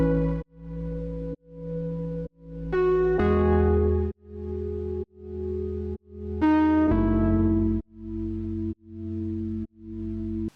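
Lofi synth chords pulse in a steady sidechained rhythm, each chord ducking and swelling back, with brighter chord changes spreading wide across the stereo field; loud, clean and alone.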